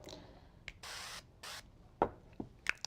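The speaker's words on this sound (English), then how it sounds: "we're just going to spray our pan with" Cooking oil sprayed from a can onto a casserole pan, two short bursts of hissing spray separated by a pause, followed by a few light clicks and handling knocks, fairly quiet.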